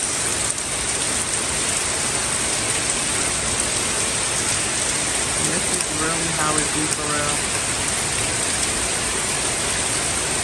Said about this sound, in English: Now look how much it rains out here